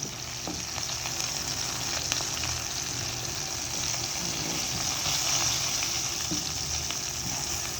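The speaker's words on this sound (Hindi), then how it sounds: "ये देखें साथ साथ हमारी मिर्चें भी फ्राई हो रही हैं" Green chillies frying in oil give a steady, close, loud sizzle with crackling bubbles that runs unbroken throughout, and no one speaks.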